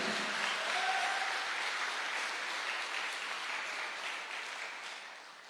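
An audience gives a speaker a loud, sustained round of clapping at a plan presentation meeting. Dense, even applause runs for several seconds and slowly thins toward the end, with no voices over it.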